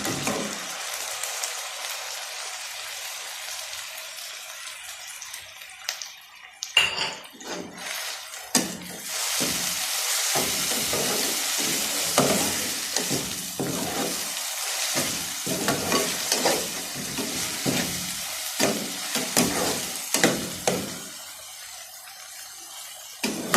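Browned onions fry together with ginger garlic paste and ground green chili for a matar chicken curry, a loud, close, continuous sizzle broken by bursts of scraping stirring, with no voices.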